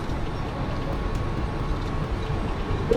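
Mumbai local train on the Govandi to CSMT line arriving at a platform, a steady broad low rumble and rolling noise held throughout at fairly even loudness.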